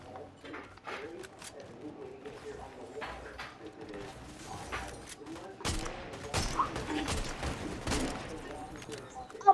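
Scattered gunfire in a Fortnite match, bursts of shots, some faint and distant and others nearer and sharper, mixed under players talking.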